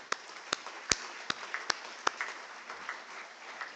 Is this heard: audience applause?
yes